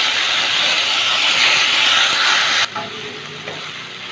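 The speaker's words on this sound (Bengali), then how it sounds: "একটু সাদা জিরে দিচ্ছি। ফোড়নটা একটু ভেজে নিলাম।" White cumin seeds and a dried red chilli sizzle in hot oil for a tempering, a loud, close, steady hiss that drops slightly in level partway through.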